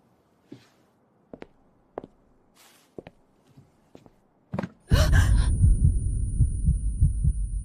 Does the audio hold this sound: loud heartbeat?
yes